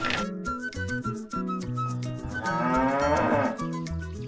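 Cattle on a farm moo loudly and close by, with several long, overlapping lowing calls that swell and fade in an otherwise quiet setting.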